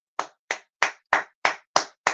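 A single person claps by hand in applause, seven sharp, evenly spaced claps over about two seconds, close and distinct with silence between each.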